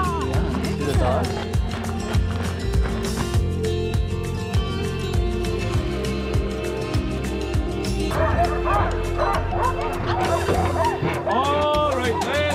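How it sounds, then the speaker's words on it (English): Sled dogs at a summer dog sled tour in Seward, Alaska bark and yip in a busy chorus, with wheeled sled equipment rattling nearby and people talking over the steady noise. "Oh, a dog! Yeah, see the dogs?"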